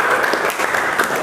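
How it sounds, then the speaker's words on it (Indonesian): A short burst of loud, close clapping from a group in a physics class on Pascal's law, dense and continuous. "Tepuk tangan buat kita semua."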